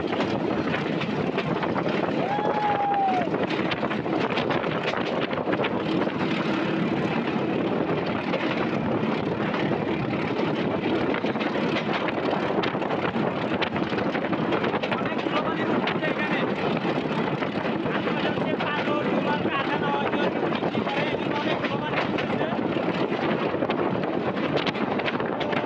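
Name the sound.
wind blowing at a moving train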